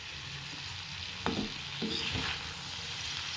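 Turmeric stirred into ivy gourd and tomatoes cooking in a pan, a soft steady sizzle with two brief scraping stirs of a spoon close by, no voices.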